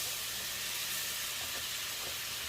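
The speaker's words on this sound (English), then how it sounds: "I'm going to add our butter sticks." About a pound of butter sticks melting in a pot over a flame for a garlic butter sauce, giving a steady, even sizzling hiss throughout without pauses.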